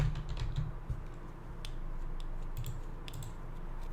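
Quick clicks of typing on a computer keyboard, close and fairly quiet, with uneven bursts of keystrokes over a low steady background hum.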